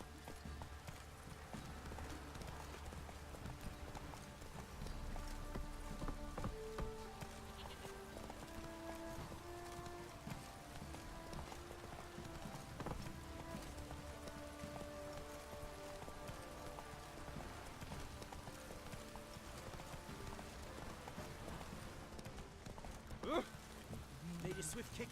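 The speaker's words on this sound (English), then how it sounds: "Run, Roach." Horse galloping in The Witcher 3 video game, a steady rhythmic clip-clop of hooves that runs continuously with rain-like ambience, fairly faint and even throughout.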